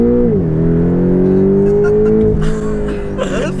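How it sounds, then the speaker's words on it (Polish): A 365-horsepower Porsche 911 GT3 accelerates hard on a race track, its engine roaring loudly and close with rising pitch through the gears, and a short dip at a gear change. "No i na koniec jeszcze przyspieszenie."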